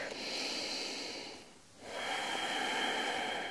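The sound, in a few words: long breath during yoga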